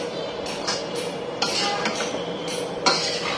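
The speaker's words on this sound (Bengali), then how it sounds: "এই রসুনগুলোকেও তেলের মধ্যে দিয়ে ভেজে দিব" Sliced garlic fries in hot oil for a mango pickle, a steady hiss under repeated metal clinks and scrapes of a spoon stirring in the pan.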